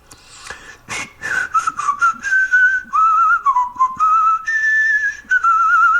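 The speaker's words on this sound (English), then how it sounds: "Singing and whistling a happy tune." Someone whistles a cheerful, wavering tune close by, after a few quick opening notes, with short breaths between phrases.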